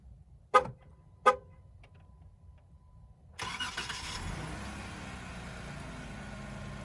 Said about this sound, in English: another really cool feature that I wanted our Jeep to have is this remote start